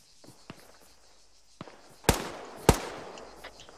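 Gunfire in Arma 3 during a co-op firefight, with tracer rounds aimed at rocks: a few faint distant pops, then two loud, sharp shots about half a second apart, each trailing off into a brief echo.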